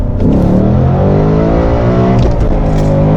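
A Ford Mustang Mach 1 accelerates hard in first gear, its loud, close engine note climbing steadily in pitch for about three seconds, with a brief shift-like dip partway through.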